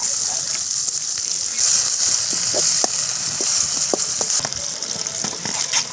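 Ginger garlic paste dropped into a pan of fennel seeds, curry leaves, onion and tomato, a steady loud sizzle and frying hiss with occasional stirring clinks, close and continuous.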